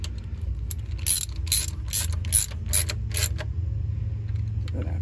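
A socket ratchet clicks in a quick run of about eight bursts while tightening upper intake bolts on a 2007 Chrysler PT Cruiser, close and crisp over a low background hum, then falls quiet.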